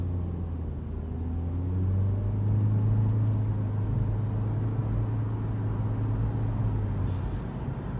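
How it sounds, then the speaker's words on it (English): Engine drone of a 2019 Toyota C-HR Limited accelerating, heard from inside the cabin as a low, steady hum with a rising tone that builds over several seconds amid road rumble. "I'm going to do a little acceleration test here so you can see how it sounds accelerating."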